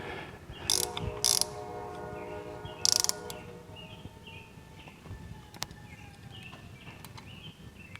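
Ratchet wrench tightening caliper bracket bolts on a 1948 Willys CJ2A Jeep during a four-wheel disc brake conversion, a few bursts of quick ratcheting clicks near the start and around three seconds, then quieter clinks and a lingering ringing tone.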